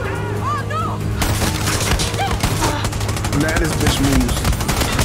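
Rapid bursts of automatic gunfire and scattered shots crackle through a Far Cry 6 gunfight, loud and nearly continuous, while someone talks over the shooting.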